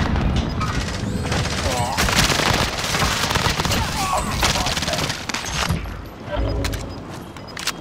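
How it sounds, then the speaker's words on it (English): Frag grenade blast and dense gunfire in Call of Duty: Modern Warfare, loud overlapping shots and a crashing explosion filling the scene, with radio-style voices calling out over the battle. "Tossing frag."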